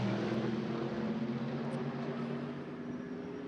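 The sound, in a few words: two Mercedes GT3 race cars rumbling past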